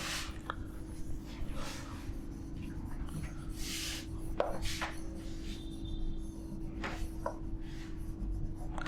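Writing on a board during a Nagpuri language lesson, with soft scratchy strokes in separate short bursts over a steady low hum, faint and intermittent, with quiet speech in places.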